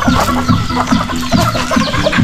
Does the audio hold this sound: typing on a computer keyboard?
no